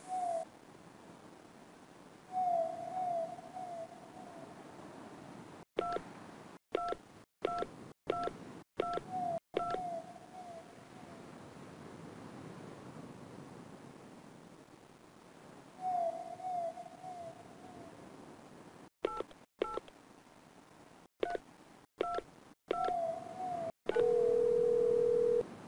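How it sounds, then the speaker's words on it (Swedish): Telephone keypad tones in a 1997 children's underwater adventure game come in two quick bursts of crisp beeps, each run of about six presses followed by a ring tone, with soft background music between them. "Om du vill ringa upp havsdjuren finns det några telefonnummer i boken på hyllan."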